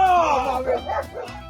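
A Rottweiler guard dog barks and yips in a few quick, close, loud bursts with whimpering tones, confronting a thief.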